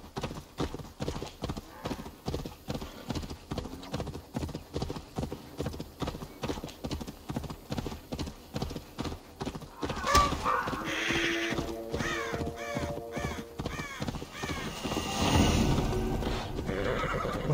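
Horse galloping in Assassin's Creed Valhalla, with steady fast rhythmic hoofbeats throughout and a loud neigh partway through, joined by crow caws and game sound effects, while people talk over it.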